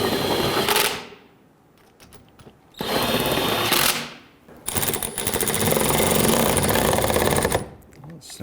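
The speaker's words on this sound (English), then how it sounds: "Let's snug down our 10mm bolts across the front side here. Let's tighten down the two 13s." Power tool running in loud bursts while tightening 10mm and 13mm bolts on the engine splash shield of a 2011–2021 Jeep Grand Cherokee; three sustained whirring runs, the last and longest, separated by brief quieter gaps.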